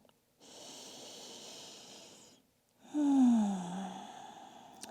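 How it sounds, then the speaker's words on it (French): Slow, deep breaths during a morning yoga session, a long airy inhale followed by a pause and a stronger, louder exhale with a nasal edge, heard close. "On respire profondément."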